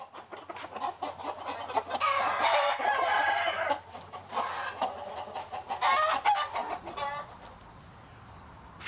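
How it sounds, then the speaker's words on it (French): Fighting roosters cluck and squawk in busy overlapping bursts, with a drawn-out crow rising among them, close by and fairly loud. "Ces coqs de combat qu'il prépare comme des athlètes de haut niveau."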